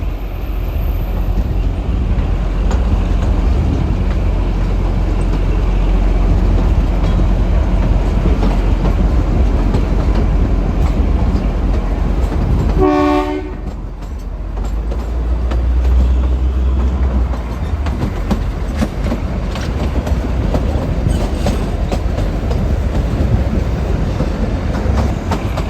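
The Shimla–Kalka toy train runs with a continuous, close rumble and clickety-clack from inside the carriage, broken midway by a short stepped whistle-like tone and a brief dip in loudness.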